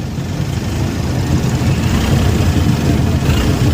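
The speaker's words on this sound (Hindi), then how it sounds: "आप देखो ये इंजन को इसने सीधा किया" Long-tail boat engine idling in forward gear on a Krabi island tour, a steady, loud low rumble that holds evenly throughout with no speech over it.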